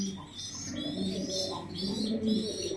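Pigeons cooing in a cage while feeding their chicks, soft steady rolling coos close by, continuous and alone.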